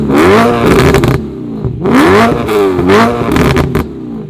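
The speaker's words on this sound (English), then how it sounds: "Listen to how glorious this engine sounds." A BMW M3 V8 engine revs loudly three times, each rise climbing sharply then dropping back, close and unaccompanied.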